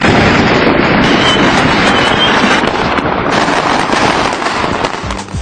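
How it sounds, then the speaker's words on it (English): Firecrackers explode during Chinese New Year in a dense, continuous crackling barrage, loud and close, with rapid overlapping pops and bangs sustained throughout without pause. "They light up firecrackers for 2 continuous weeks."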